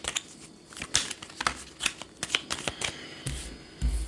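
Tarot cards are shuffled and laid out in a series of crisp riffling and slapping bursts, close and fairly loud, with a heavier thump near the end and no voices.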